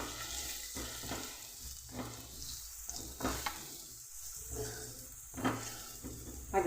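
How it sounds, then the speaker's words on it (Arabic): Onion sizzles while it fries in a pan, a soft, steady crackle with stirring sounds and an occasional clink of a utensil against the pan, fairly quiet and without talk. "نحطو هنا شويه بصل ونقليه"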